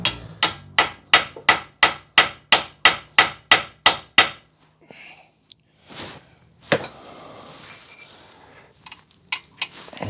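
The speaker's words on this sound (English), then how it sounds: "I have to hammer that on because it's not going to go on there otherwise" Rapid, evenly spaced hammer blows on a part being fitted to an abandoned Alfa Romeo Mito Cloverleaf, about a dozen sharp metallic strikes in quick succession, followed by quieter scattered clanks and tool handling.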